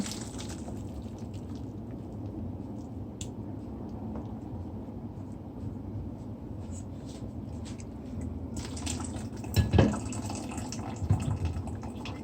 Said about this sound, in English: I'm going to strain the water off.